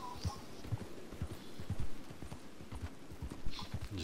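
Rhythmic clip-clop of horse hooves trotting at a steady pace in Red Dead Redemption 2, fairly close, with a few faint higher tones in the background.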